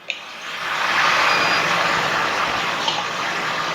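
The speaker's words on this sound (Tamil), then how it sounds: "நல்லெண்ணெய் தான் ஊத்துறேன்" Sesame oil is poured into a pan on the stove for a Sankara fish curry, giving a steady broadband hiss and rush that builds in the first half second and holds evenly, loud and close, with no voices.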